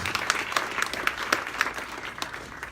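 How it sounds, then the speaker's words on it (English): An awards-ceremony audience clapping for an honoree, a brisk, fairly close round of applause. "Give her a big round of applause so she can hear it wherever she is."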